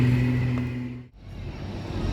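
A tour bus from the PO ANS company pulls out of a bus terminal, its engine drone loud and close at first, then fading sharply into a brief lull before the motor noise swells again.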